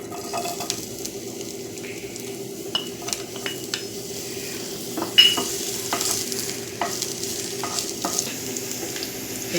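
Chopped garlic sizzles steadily in hot oil, with occasional scrapes and clinks of a utensil stirring the pan. No one speaks.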